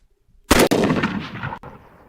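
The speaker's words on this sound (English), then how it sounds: "You just earned 3 gunshots in a row" Gunfire sound effect of three shots in a row, a loud sharp blast followed by quick echoing reports and a ringing tail, close and alone with no talk.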